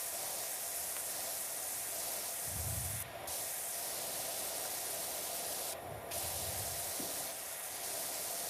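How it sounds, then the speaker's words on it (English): Pressure washer spraying water in the PowerWash Simulator 2 video game: a constant, loud hiss of spray that runs through the whole stretch, broken by a few brief dips and low thumps. "Now, let's spray this down."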